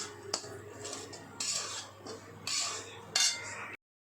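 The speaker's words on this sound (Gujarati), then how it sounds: "આ રીતે તેને હવે આપણે થોડું શેકી લેવાનું છે મીડિયમ ગેસ પર।" Coconut stirred while roasting in a pan over a medium gas flame for coconut dry fruit modak, giving intermittent scraping and clinking of a utensil against the pan, with short louder bursts between quieter stretches.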